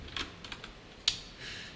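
Keys clatter on a computer keyboard as code is typed, a few light scattered taps followed by one sharper click and softer keystrokes, close and alone with no talking.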